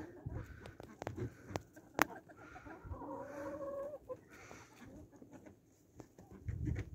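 A few hens cluck and murmur nearby, with occasional sharp knocks and scratching sounds around them; no talking.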